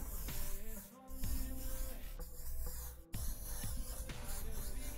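An airbrush sprays gray paint onto a motorcycle helmet with a continuous close hiss, briefly interrupted a few times.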